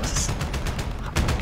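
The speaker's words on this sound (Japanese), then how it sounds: "今、ほら、銃声が発生しているとこです" Gunfire in a Call of Duty: Modern Warfare multiplayer match: a quick burst of rapid shots, then a louder shot near the end, all within about a second and a half.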